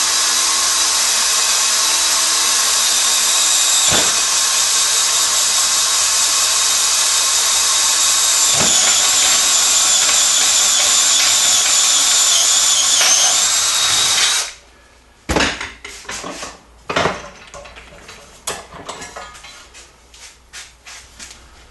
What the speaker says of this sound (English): I know pretty close where I'm going to drill through.